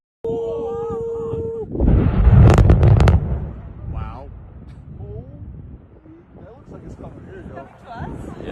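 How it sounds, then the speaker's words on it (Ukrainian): Loud booming blasts from a vent of Mount Etna, gas explosions in a dense burst of explosive rumbles followed by rolling crackles, with people talking and exclaiming nearby. "через сильні викиди газу було чути звуки вибухів"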